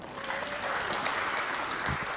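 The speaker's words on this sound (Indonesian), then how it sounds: "Boleh tepuk tangan." Applause from the audience at an Indonesian parliamentary committee meeting (Komisi II DPR RI) with teacher representatives, a dense, steady crowd clapping filling the room, with faint voices underneath.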